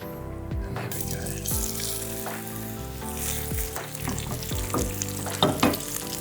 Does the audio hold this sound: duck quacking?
no